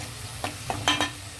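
Tomato puree cooks in a pan with fried onions as a spoon scrapes and stirs it, a low steady sizzle broken by four short scraping strokes, close and alone.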